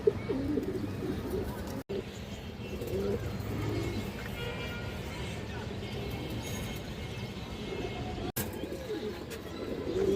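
Home-kept pigeons, including a khaki male, coo in soft, low, repeated calls over a steady noisy background, fairly faint and continuous for the whole stretch.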